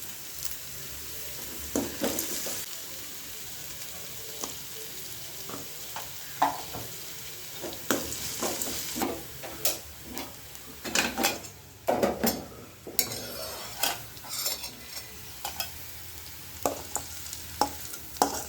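Millet and green gram batter ingredients with chilli sauté in a pan over a steady low sizzle, while a spoon scrapes and clinks against the metal in irregular bursts, louder in the middle stretch.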